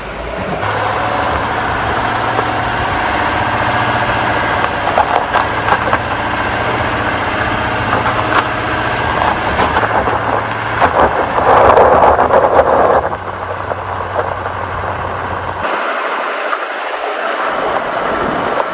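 A heavy tractor engine drones steadily throughout, loud and close, with a low rumbling hum and occasional mechanical rattles.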